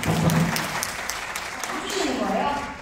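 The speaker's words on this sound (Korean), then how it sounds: "큰 박수로" A crowd claps in a dense patter, welcoming an elementary school teacher being introduced, while Korean voices speak over the applause.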